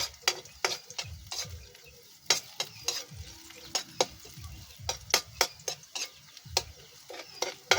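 Garlic and onion sauté in a pan, a soft background sizzle broken by regular sharp ticks and taps of a spatula against the pan, close and steady throughout.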